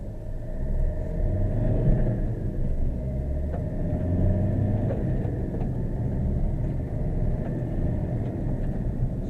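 A 2014 Maruti Suzuki Ritz VDI diesel hatchback pulls away in first gear, its engine giving a deep, continuous rumble from inside the cabin. Faint ticking and clatter sit under the steady drone, with no talking.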